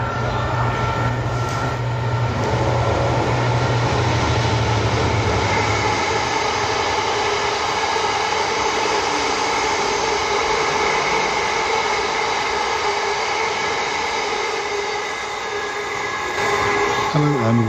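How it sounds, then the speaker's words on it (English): A train passes by with a long, loud, steady rumble and tonal drone that holds for the whole stretch, dipping briefly near the end before swelling again, with no talking over it. "Oh, here comes a train."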